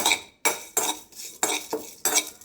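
Urad dal, fenugreek seeds and dry red chillies dry-roasting in a pan, stirred in four distinct scraping sweeps with short pauses between, close and fairly loud, with no talk.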